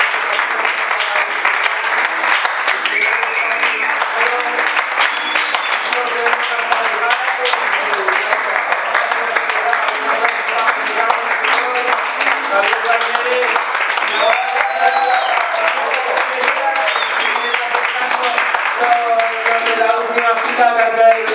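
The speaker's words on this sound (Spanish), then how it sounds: "Un aplauso para la gente de teatro." Audience applause for theater performers at a school stage show, a dense, steady clapping that fills the whole stretch at close range, with voices and other tonal sound mixed underneath.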